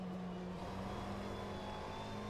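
Race car engine droning steadily in a racing video game at Zandvoort during a 3-hour endurance event, a continuous mid-level hum with a sustained tone and no talk over it.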